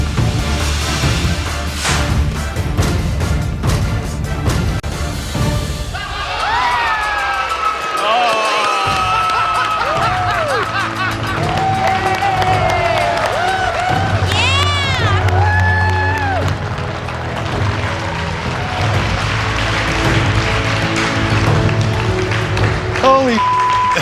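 Competitors in the MasterChef US kitchen cheer and shout as a group, a loud, continuous crowd roar with whoops and scattered clapping, mixed with overlapping voices throughout.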